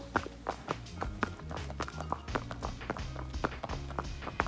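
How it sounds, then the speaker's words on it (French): Steady barefoot pony hoof steps thud and tap on the ground at a walking pace, close by, over a low continuous background hum. "Le son du poney pieds nus."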